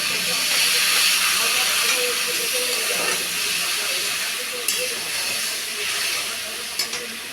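Spice masala frying in a pan as a little water is added for a pointed gourd dish, giving a loud, steady hiss that slowly fades, with faint clinks near the end.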